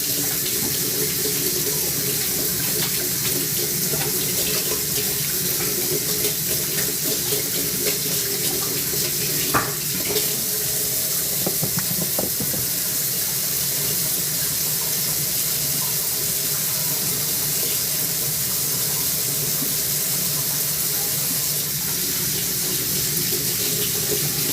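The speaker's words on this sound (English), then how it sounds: "I gotta wash my hands." A kitchen tap runs steadily and close by as hands are washed under the stream, a continuous splashing rush with faint clinks and shifts in the flow.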